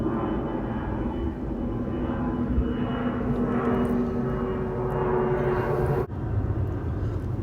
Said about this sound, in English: And in these latter days, Salakia, I got a plane heading over me